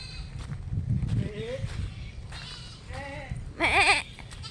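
A goat bleats loudly and nearby in a wavering cry, following a couple of softer bleats and some rustling movement.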